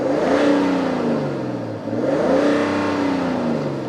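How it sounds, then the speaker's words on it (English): A BMW 640d Gran Coupe diesel engine revs up twice in quick succession, its pitch rising and falling each time, close and fairly loud. "that just sounds like pure diesel refinement"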